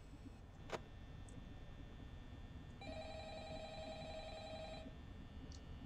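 In the Five Nights at Freddy's video game, a telephone rings in one sustained electronic burst of about two seconds over a low, steady background hum, with a faint click just before it.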